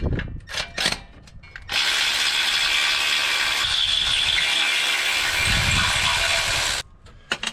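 A ratchet wrench clicks rapidly and steadily while backing bolts out on a 1991 Chevy Silverado, a loud, close, continuous run of metallic pawl clicks lasting several seconds, with a few short bursts before and after and no talking.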